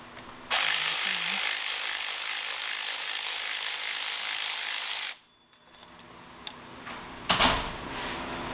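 Ratchet wrench driving a long extension and 5/8 socket on the spark plugs of an Audi Allroad B8 2.0T, a steady close whirring run of clicks for about five seconds, then brief faint clinks.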